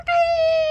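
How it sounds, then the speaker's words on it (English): A rooster crows once in a sustained, tonal call near a garden, loud and clear with no talking over it. "There's the rooster crows."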